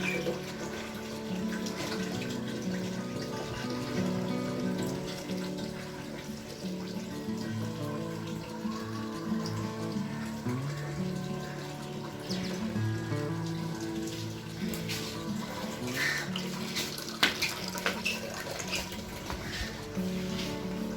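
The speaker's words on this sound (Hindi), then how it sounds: "रात से बहुत ज़्यादा बारिश हो रही है" Heavy rain that has kept pouring since the night falls in a steady, continuous watery rush with splashing and dripping, close and unbroken throughout.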